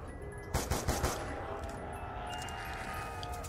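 Automatic weapon fire in Call of Duty Black Ops 2 Zombies on the Nuketown map, a loud burst of rapid shots early on, then a lingering ringing tail and game ambience.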